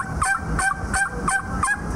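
A mouth call imitates an eastern wild turkey with a rhythmic series of five nasal yelps at an even pace, close and loud, with no talking over them.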